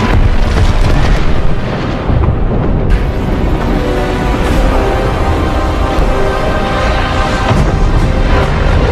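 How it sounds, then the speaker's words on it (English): Mechagodzilla's proton screen blasting and destroying city buildings in a giant monster film scene, a loud, sustained roar of explosions and crumbling rubble that runs for several seconds, with no talking. "Mechagodzilla then charges up another proton screen and destroys a few more buildings"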